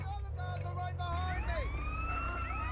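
Police sirens wail with rising and falling sweeps during an ambulance mission in GTA San Andreas, sounding over a low engine rumble from the game.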